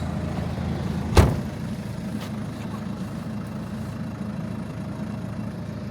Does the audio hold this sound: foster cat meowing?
no